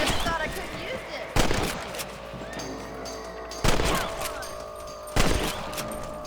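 Rifle shots at rabbits in the Red Dead Redemption video game, three loud single cracks spaced about two seconds apart, each ringing out over ambient game sound and voices.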